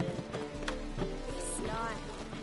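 Horse hooves clip-clop at a steady trot in The Witcher video game, fairly quiet under game music and speech from the game's characters.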